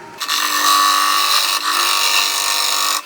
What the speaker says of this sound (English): We'll keep going with the 55-degree bevel there and remove some of that material.